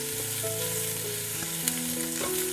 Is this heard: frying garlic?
yes